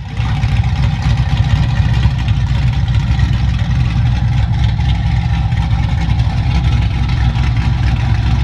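A car powered by a 6.0 Escalade engine runs close and loud at a steady, throbbing idle with a constant low rumble, no clear rev rise, outdoors at a Pittsburgh waterfront car meet.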